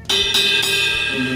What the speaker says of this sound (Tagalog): 18-inch crush natin.